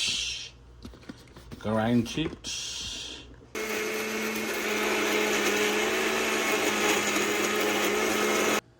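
A kitchen blender grinds sliced red onion, garlic, ginger and jalapeno for chicken fried rice, running loud and steady for about five seconds after a short burst of talk and quieter handling sounds.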